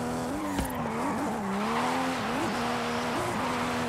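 A Toyota A90 drifts on drift tires and drift suspension in Forza Horizon 5, with a steady, loud tire squeal whose pitch wavers and dips as the car slides, over a continuous engine roar.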